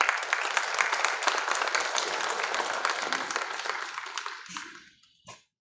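An audience at a teachers' enrichment programme gives a round of applause welcoming a resource person, dense sustained clapping that gradually fades out, followed by a lone short sound at the end.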